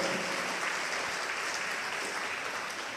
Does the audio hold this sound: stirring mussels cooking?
no